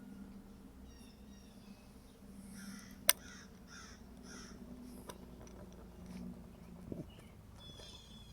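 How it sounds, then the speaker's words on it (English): Crows caw outdoors on a quiet morning, several scattered calls at moderate distance over a faint insect and ambient hum, with a sharp click partway through. "Birds are out this morning."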